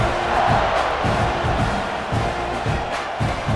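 Football stadium crowd during a college game roars continuously at close range, a dense wash of cheering and shouting that holds steady throughout.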